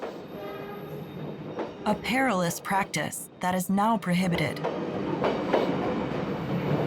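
A train rolls along the narrow Railway Street tracks in Hanoi, lined with cafes, a steady rumble running throughout while a narrator speaks over it and a high horn-like tone sounds briefly near the start.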